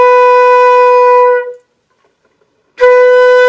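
A beginner's flute sounds a sustained B, a steady clear tone held for about a second and a half, then after a short silence the same note returns loud and close.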